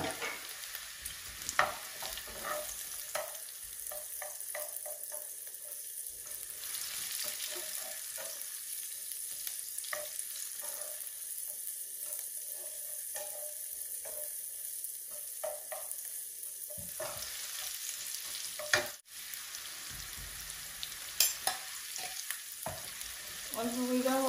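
Onions and green chilies fry in a pan for a Bengali rui fish curry, a steady close sizzle with frequent stirring clicks and scrapes, a sharp clatter near the end and a brief metallic ring afterward.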